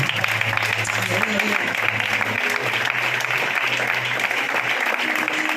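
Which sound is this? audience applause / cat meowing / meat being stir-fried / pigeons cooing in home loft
audience applause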